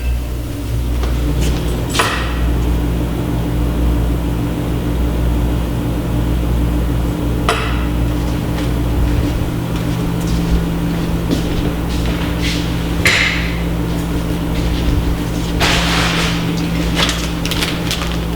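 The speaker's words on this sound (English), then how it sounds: "I'm putting the sandwiches in the microwave for a second so that I still get a good cheese pull whenever they're done." A microwave oven heating sandwiches gives off a steady low hum throughout, close and continuous, with a few faint clicks and kitchen knocks scattered on top and no talk.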